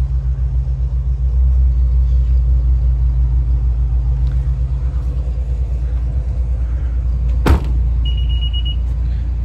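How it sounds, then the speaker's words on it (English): A Honda CR-Z Mugen RZ idles with a deep, steady rumble while its warning chime beeps briefly near the end, sounding because the engine is running with the key outside the car; a sharp click comes just before. "That's just the car telling me that the car engine's running, but I've got the key in my pocket and I'm outside the car"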